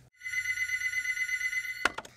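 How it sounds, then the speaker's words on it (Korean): A telephone in a real estate office rings with one long, bright electronic tone, followed by a couple of sharp clicks as the handset is picked up. "자, 처음 전화가 옵니다."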